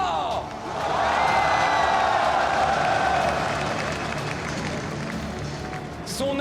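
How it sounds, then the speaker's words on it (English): Crowd applause and cheering swell through a large arena during the League of Legends MSI 2018 grand finals, loud and sustained, with an announcer's voice over it. "un tonnerre d'applaudissements pour Karsa!"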